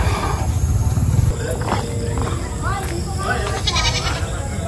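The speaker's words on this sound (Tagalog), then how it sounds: "Kunin natin tong kambing guys." A goat bleats in several short, wavering cries at a household gathering, with people talking and moving around it.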